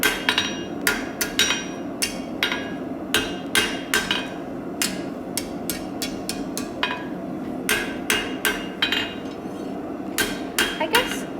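A hammer strikes metal bar stock over and over to flatten a stiff section of a forged scroll, giving sharp, ringing blows in an uneven rhythm, close and loud, with no talk.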